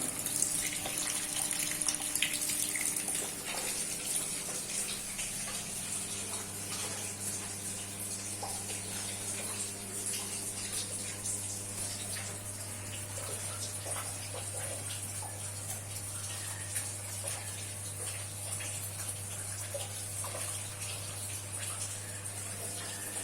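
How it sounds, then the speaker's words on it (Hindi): Water runs steadily into an automatic washing machine during its fill cycle, a continuous even hiss and gush over a low steady hum, unbroken and moderately quiet throughout. "पानी जो है वो चलने लगा।"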